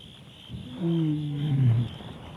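A male lion on safari in South Africa gives a deep, rumbling roar of about a second, moderately close, over faint steady background noise.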